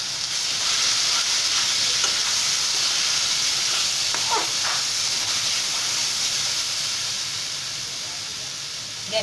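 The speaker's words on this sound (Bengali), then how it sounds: "এবার যতক্ষণ এটা জলটা মিশ্রণটা শুকোচ্ছে ততক্ষণ অবধি এটাকে নাড়তে হবে।" A spoon stirs a chickpea-lentil paste mixture in a hot pan over a gas flame, under a loud, steady sizzle and hiss of steam that runs throughout, close up, with faint scraping as the paste is moved.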